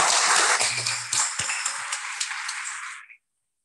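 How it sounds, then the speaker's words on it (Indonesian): Dense, steady applause from a student audience at a BEM presidential and vice-presidential candidate debate at STKIP Modern Ngawi, clapping for KPUM. It sounds loud and sustained for about three seconds, then stops abruptly. "Tepuk tangan buat KPUM."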